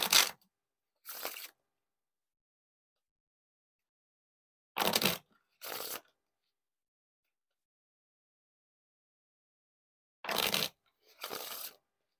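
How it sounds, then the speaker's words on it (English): Red Knights playing cards being riffle shuffled, heard as six short crisp bursts of fluttering card noise in three pairs, each pair a riffle followed by a quick bridge, separated by long silences. "Now time for the riffle shuffle or bridge shuffle."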